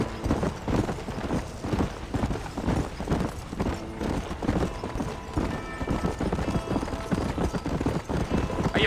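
Galloping horse in the Red Dead Redemption video game, hooves clip-clopping in a steady, driving rhythm alongside occasional whinnies, with game music and speech running underneath.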